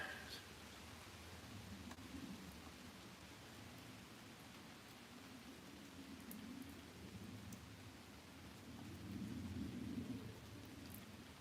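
Steady rain falls outside, a continuous hiss with low rolling thunder swelling now and then, heard from indoors at a moderate distance.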